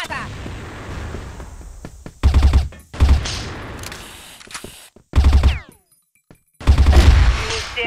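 Grenade blasts and bursts of gunfire in a shooter video game, several loud, booming bursts spaced apart over steady background noise.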